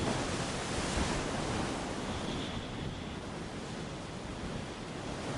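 Raging sea waves crash and roar in a dense, continuous wash of surf, loud and unbroken, with wind noise blended in and no voices.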